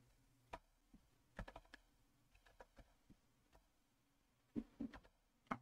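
A computer keyboard clicks under someone typing, with sparse irregular keystrokes and short bursts spread across the quiet stretch, close and fairly soft.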